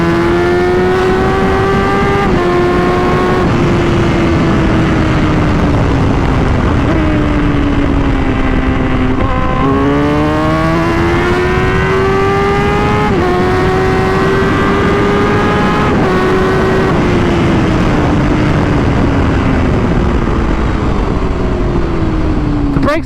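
Raw inline-four roar of an 18-year-old Suzuki GSX-R1000 K5 superbike, close and loud throughout, its pitch climbing and falling through repeated revs and gear changes with no talk over it.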